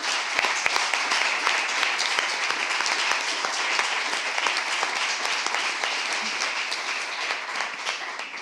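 An audience at a Spanish poetry book launch applauds for Francis Porcel, a dense, sustained round of clapping from a full room, loud and steady for about eight seconds.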